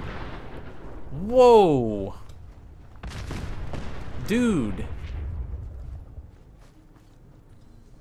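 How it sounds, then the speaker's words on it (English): Explosions blast through a Fallout 4 session, with two booming bursts and rumbling debris, mixed with game sound effects while a player exclaims over them. "The explosions."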